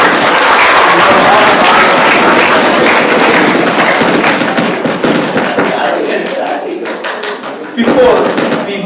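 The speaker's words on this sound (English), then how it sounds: "Let's give a round of applause for all" Audience applause at a Tamil computing and information technology conference ceremony: a loud, dense wash of clapping that gradually thins and fades, then a short renewed burst near the end as a voice begins.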